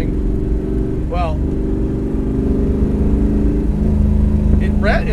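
A 1967 Ford Fairlane engine idles and runs steadily with a low rumble, while people talk over it nearby.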